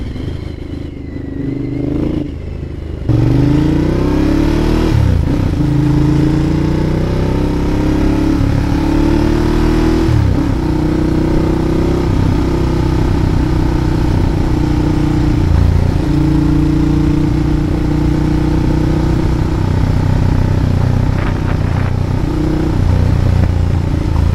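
A Ducati Diavel motorcycle engine rumbles loud and close, starting after a few seconds and then holding a steady deep idle with slight rises in revs throughout.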